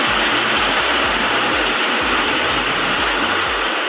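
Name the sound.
heavy downpour of rain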